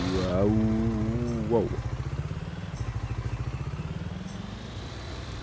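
A tractor engine in Farming Simulator 19 rises in pitch as it revs, then settles into a steady rhythmic chug that carries on to the end, with a short exclamation voiced over the start.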